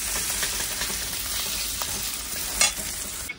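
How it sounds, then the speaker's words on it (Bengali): Spice masala for mutton curry stirred and frying in a pan: continuous close sizzle with repeated scraping strokes of the spoon and a brief louder clatter near the end, no voices. "মশলা কষা চলছে।"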